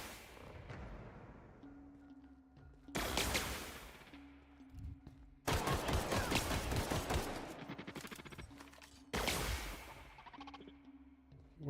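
Gunfire in the video game The Outer Worlds, three loud bursts of rapid automatic shots separated by quieter stretches, with a sustained electronic tone in between.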